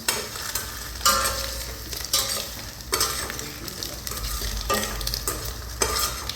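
Masala for fish fry is stirred in a sizzling pan: a spoon scrapes roughly once a second in a steady rhythm over a constant frying hiss, close and clear, with no talking.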